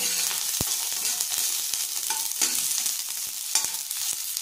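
Cherry tomatoes and onion fry in a hot pan with a steady, loud sizzle, broken by a few sharp clicks and stirring scrapes from a utensil.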